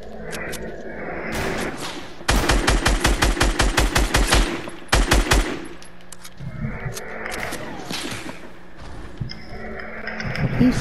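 Gunfire in a video game shootout: loud, rapid bursts of automatic fire rattle for several seconds, pause briefly, resume, then give way to quieter background noise.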